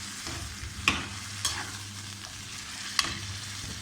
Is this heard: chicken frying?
yes